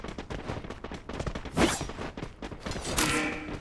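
Dense gunfire from a battle royale video game during a tournament grand final, with rapid overlapping shots and a couple of louder bursts, steady and fairly close.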